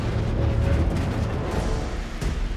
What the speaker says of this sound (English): All of a sudden, a massive explosion.